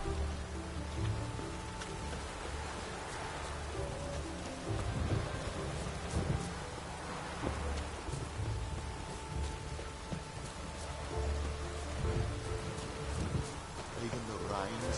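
Thunderstorm in The Witcher 3 game world, with steady heavy rain hissing throughout and low rolling thunder rumbles swelling and fading several times, close and immersive, no voices.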